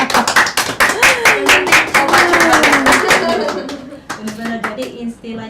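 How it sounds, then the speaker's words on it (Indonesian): A small group claps in a podcast studio, quick close hand claps that fade out near the end, with people talking and laughing over the clapping. "Tepuk tangan dulu, keren banget."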